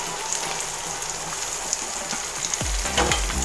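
Capsicum and tomato frying in a pan with a steady broadband sizzle throughout, joined near the end by a few low scraping thumps as the vegetables are stirred.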